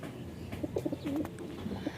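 A pigeon on a training flight coos in short, soft repeated calls against an outdoor wind background, fairly faint and alone.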